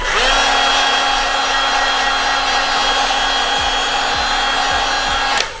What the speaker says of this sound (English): Now, take the heat gun.